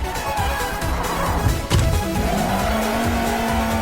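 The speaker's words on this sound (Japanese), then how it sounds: "目いっぱいスピードが乗ったところからのフルブレーキングの突っ込み" A car in a street-racing video game comes off full speed into full braking for a corner, its engine roaring loudly with a sharp thump and then a sustained, rising tire squeal; loud and close, with no talk.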